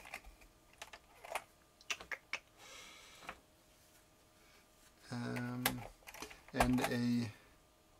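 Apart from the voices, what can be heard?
typing on a Cherry G81 keyboard with double-shot keycaps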